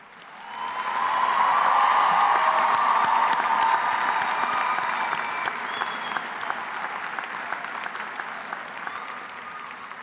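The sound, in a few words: graduation audience applause honoring supporters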